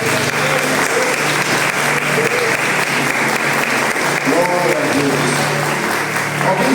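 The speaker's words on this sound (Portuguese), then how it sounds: "Aplauda o Senhor por esta palavra." A church congregation applauds loudly and steadily during a sermon, a dense, continuous wash of many hands clapping together that fills the room for several seconds, with faint voices mixed underneath.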